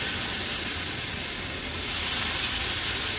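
Vegetables sizzling in hot oil with turmeric, masala and ground paste, a continuous broad hiss that stays steady and close throughout.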